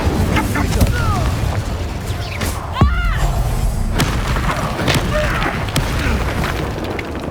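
Incendio fire spell cast in the Hogwarts Legacy video game, heard as a loud whooshing burst and booming impacts amid busy combat sounds, with a brief voice cry mixed in.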